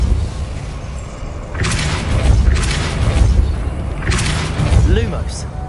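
Depulso spell cast in the video game Hogwarts Legacy, a few loud whooshing bursts with low booming thumps spaced a second or two apart, with a brief voice-like sound near the end.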